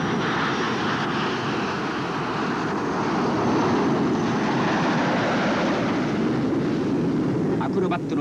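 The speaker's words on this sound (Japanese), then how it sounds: "ダイヤモンド編隊がスカイホークの能力としては失速ギリギリのスロースピードで飛んでくる" US Navy Blue Angels A-4 Skyhawk jets roar past, a diamond formation near stall speed overtaken by a solo jet at top speed, in a loud, sustained rush that swells and slowly fades, with a faint voice briefly underneath.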